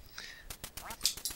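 Short burst of electronic duck quacks in the video game Duck Hunt, quick and close, with no voices.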